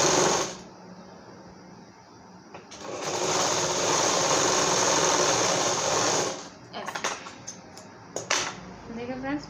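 A sewing machine runs continuous fine stitching on a designer blouse, a steady high whir that starts, pauses briefly, then resumes for a long stretch before stopping amid handling noises; a voice is heard in places.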